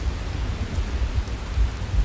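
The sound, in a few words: rain and thunderstorm in the video game Skyrim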